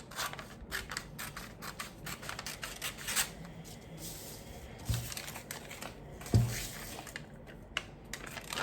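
Scissors snip through a paper blouse pattern in quick, soft, close cuts with rustling paper between them, alone and fairly quiet.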